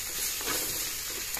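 Potato pieces frying in oil in a pan, giving a steady dense sizzle with no pauses and faint stirring scrapes running underneath.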